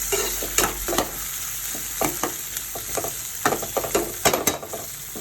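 Tomato and capsicum stir-fry in a pan, a steady close sizzle broken by repeated scraping clinks of a spatula stirring through the vegetables.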